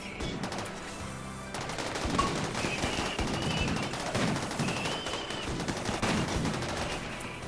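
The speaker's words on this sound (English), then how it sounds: "They're just shooting the wall themselves!" Gunfire in the colony game RimWorld, rapid overlapping bursts of automatic and single shots crackling continuously throughout, dense and fairly close with no voices.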